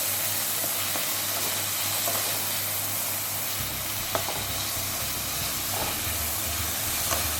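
Spices with peri peri fry in a pan for a pizza topping, making a constant close hiss and sizzle with faint stirring and no voices.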